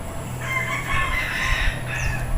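A rooster crowing nearby, one long drawn-out call in the open air over a low background hum.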